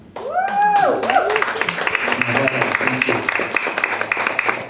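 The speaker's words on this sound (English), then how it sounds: "That was an applause for everybody." An audience at a candidate forum in Puna claps steadily for several seconds, a fairly close, even round of applause with a voice briefly heard at the start.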